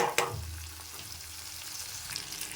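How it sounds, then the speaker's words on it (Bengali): Tomato fries with spice paste in a pan for a prawn curry. After a quick clatter of stirring at the start, a soft, steady sizzle continues with no talking. "এবারে টমেটোটা হালকা হালকা ভাজা হোক"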